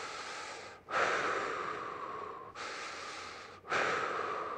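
Slow, deep breaths during a core exercise lying with legs lifted, three long airy exhales and inhales close to the microphone, each separated by a short pause.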